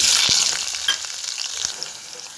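Onion frying in hot oil in a pan sizzles loudly and up close, with occasional stirring scrapes and crackles and no talk.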